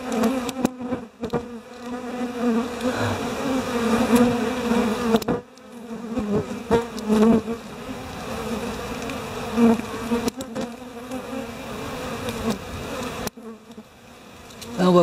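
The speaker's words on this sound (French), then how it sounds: "il y a une quinzaine d'abeilles sur l'appareil" A swarm of honeybees buzzes loudly and continuously nearby, the droning hum rising and falling as they move about.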